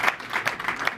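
Audience applause for startups and a jury at an AI garage demo day, a brief steady patter of clapping from a crowd without a clear peak or fade.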